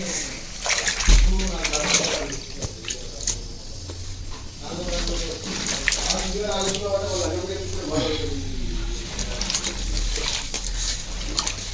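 Clothes splash and slosh in water with repeated scrubbing noises while a person talks over the washing.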